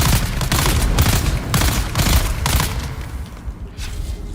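Rapid, overlapping blasts from grenade spam in the video game Dune Awakening, loud and continuous with repeated heavy bursts and a dense rumbling bed, briefly easing near the end.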